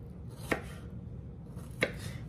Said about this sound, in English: I honestly am not good at chopping onions.